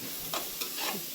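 Soaked flattened rice (poha) with onion and chili being fried and stirred in a pan, heard as a soft continuous sizzle with a few scraping stirs, faint and brief, without voices.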